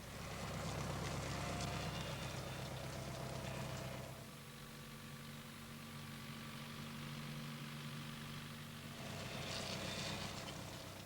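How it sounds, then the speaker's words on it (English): A tractor pulls a plough through a farm field, its engine a steady, fairly loud drone that dips to a quieter hum midway and then swells again near the end. "The tractor pulls the plough along and the blades turn the soil over in rows."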